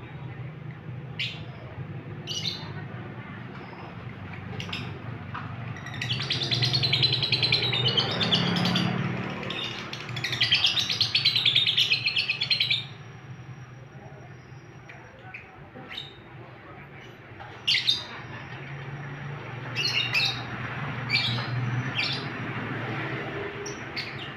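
A songbird in breeding condition calls close by, repeating sharp chirps and breaking into long bursts of rapid trilling song over a low background hum.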